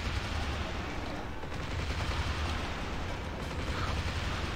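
A big explosion in the game Mafia: The City of Lost Heaven, played with a chaos mod, produces a dense, continuous rumbling roar full of crackling debris, sustained and loud throughout, with no talk.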